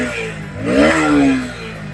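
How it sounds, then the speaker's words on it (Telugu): A used 2021 Bajaj Pulsar NS125 motorcycle engine catches close by and revs up briefly in a rising, then settling, buzzy drone with no one speaking. "ముందుగా వెహికల్ ఇంజిన్ స్టార్ట్ చేసి చూపిస్తాను చూడండి"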